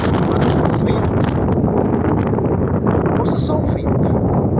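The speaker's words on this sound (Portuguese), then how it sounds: "barulho do vento" Wind blows hard across an outdoor microphone on a Saturday outing, a loud, constant gusting roar with brief rustling flutters, while someone talks over it.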